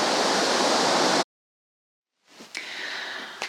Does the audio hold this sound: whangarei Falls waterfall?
yes